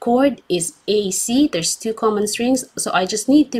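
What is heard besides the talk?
None of the usual background noises is heard.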